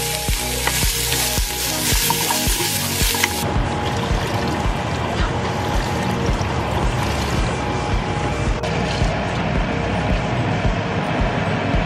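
Onion and celery sizzle loudly in a hot pan, a dense continuous crackle, with a burst of sharper frying and clatter at the start before settling into a steady hiss.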